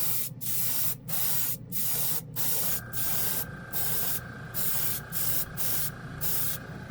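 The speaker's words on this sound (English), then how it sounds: "It just sprays absolutely beautifully" Kaleido matt airbrush paint spraying in a series of about ten short, close, steady hissing bursts with brief pauses between them, no talking.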